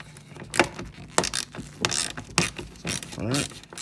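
A 7 millimeter socket ratchet loosening fasteners on a car's rear diffuser and undercarriage, several short bursts of clicking and metallic clatter close by, interrupted by brief handling noises.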